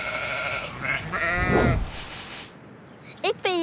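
Sheep bleat repeatedly at a flock being gathered for shearing, several calls overlapping at close range, ending in a short pair of sharp bleats after a brief quiet gap.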